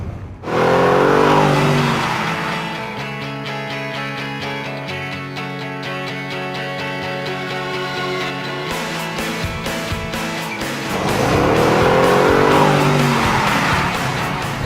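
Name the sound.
cars racing, including a Bentley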